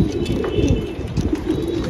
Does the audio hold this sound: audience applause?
no